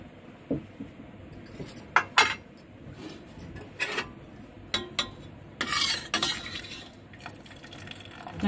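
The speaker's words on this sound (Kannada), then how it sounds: "ಇವಾಗ ವಿಶಲ್ ತೆಗೆದ್ಬಿಟ್ಟು ಕುಕ್ಕರ್ ಮುಚ್ಚಳ ತೆಗೆಯೋಣ." A pressure cooker's whistle is lifted off and its metal lid opened after the pressure drops, giving scattered clinks, rubs and metallic scrapes close by with short pauses between, and no talk.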